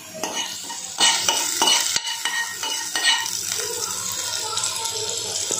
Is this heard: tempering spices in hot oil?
yes